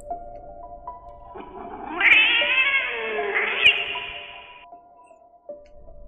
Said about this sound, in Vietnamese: Tiếng của con mèo quen thuộc đang phát ra ngay trên nóc nhà của Kha